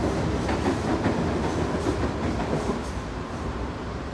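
A train pulls into a station with a steady, loud rumble and rhythmic wheel clatter that continues throughout without pause.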